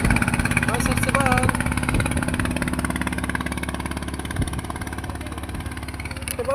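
A red speedboat's engine runs steadily as the boat pulls away on a sea trip to Sandwip, a loud, even low drone under nearby talking.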